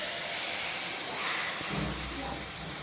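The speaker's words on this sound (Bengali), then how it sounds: "এগুলো আমি ভেজে নেব কালো ভুনার জন্য।" Spices being fried on a stove for Sylheti beef kala bhuna: coriander powder, five-spice, meat masala, cumin and garam masala give a steady, close, broad hiss, with a low hum joining partway through.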